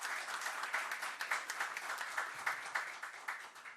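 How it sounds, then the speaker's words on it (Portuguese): Crowd applauding in a municipal council chamber during a special plenary session, dense steady clapping from many hands, fairly near and sustained throughout without speech. "uma salva de palmas para eles."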